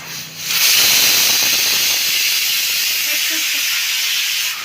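Pressure cooker on a home gas stove venting steam in a loud, steady hiss that starts abruptly and holds without a break.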